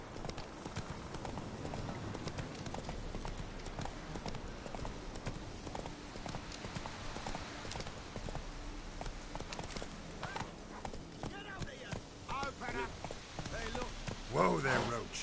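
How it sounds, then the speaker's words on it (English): Horse hooves clip-clop steadily in a video game as a rider travels, a continuous rhythmic trot heard under in-game character voices and background sounds. "Whoa there, Roach."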